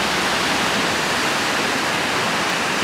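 Glacier meltwater stream rushing over rocks at a high-altitude winter campsite, a steady, broad, loud roar of flowing water close by with no pauses.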